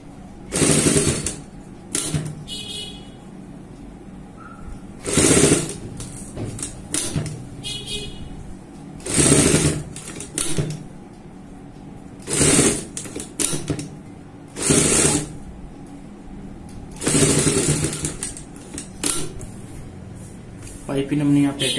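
Sewing machine stitching piping onto a garment neckline, short loud bursts of rapid mechanical stitching separated by pauses, close by, with a person speaking between bursts.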